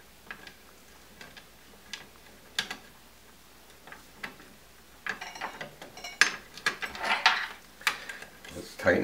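A nut is tightened on a bottle cutter angle adapter, giving a run of small close metallic ticks and clicks that start sparse and then speed up into a busier rattle, with no talking.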